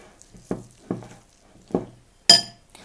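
A spoon stirs homemade play dough in a bowl, giving four separate knocks against the bowl, the last one a sharper, brighter clink, with quiet pauses in between.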